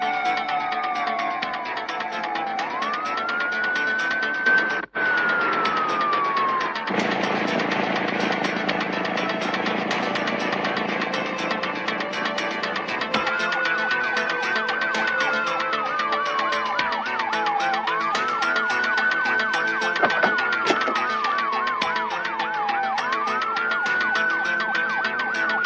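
Police sirens wail in a city street, rising and falling sweeps repeating over a steady rumble of traffic, with a brief thud partway through and a deeper vehicle drone in the middle stretch.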